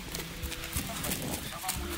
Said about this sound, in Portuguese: esse cavalo do Boto aqui é muito bom, velho